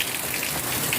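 Heavy rain pours down steadily, a dense, even hiss of drops drumming on surfaces, close and continuous throughout with no voices.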